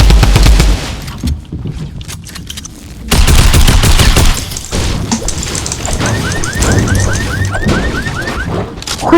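Rapid bursts of gunfire in a Fortnite match, loud and dense with crashing impacts, a short lull partway, then more sustained shooting with a repeating alert-like chirp near the end.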